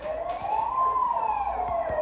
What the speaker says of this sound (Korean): 밖에 그냥 소방차가 지나간 것 같아요